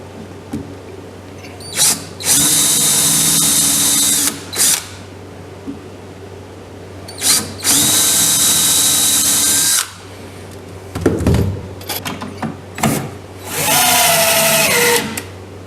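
Screws go into the wooden floor board of a homemade wooden boat with a power drill, heard close up as three long whirring runs and several short bursts, separated by quiet handling noises and clicks.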